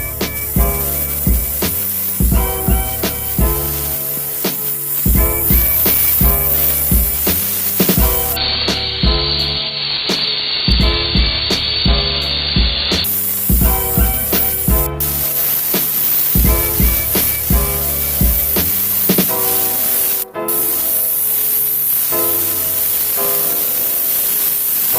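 Spray paint hisses onto football boots outdoors in long continuous bursts with brief pauses, loud and close throughout, with no talking.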